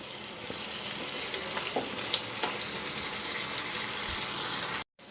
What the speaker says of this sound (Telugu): మూత తీసేసుకుని వేయించుకుందాం.